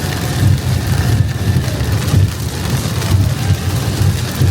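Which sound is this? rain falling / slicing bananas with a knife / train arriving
rain falling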